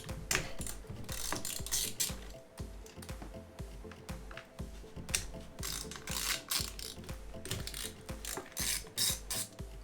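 A hand ratchet clicks in rapid, repeated bursts while loosening bolts from the underside of a Subaru STi intake manifold, close up and loud, with brief pauses between strokes.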